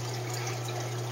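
Water trickles and drains steadily through a clear bell siphon, a faint continuous liquid flow with a low hum beneath, no speech.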